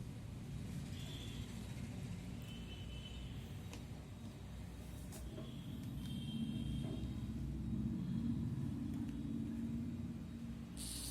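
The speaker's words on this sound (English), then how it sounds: "So this DC motor which runs continuously" A DC motor in a 12-volt engine locking prototype runs continuously, a steady low rumbling whir close by with no break and no voices.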